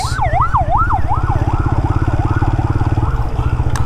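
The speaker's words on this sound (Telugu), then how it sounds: "అంబులెన్స్." A loud, close ambulance siren wailing in a fast rising-and-falling pattern, repeating steadily over an engine rumble, on a road heard from a motorcycle.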